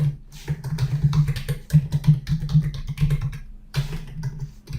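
Fingers type on a computer keyboard, producing rapid, uneven clusters of crisp keystrokes close by, with brief pauses between bursts.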